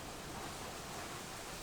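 Heavy rain and hail pour down outside during a downpour of several inches, heard as a steady, dense, broadband hiss with no distinct individual impacts.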